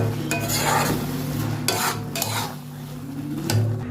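Egg Maggi noodles are stirred in a hot pan with a utensil, making repeated close scraping and clattering strokes over a faint sizzle, loud and continuous, with no talking.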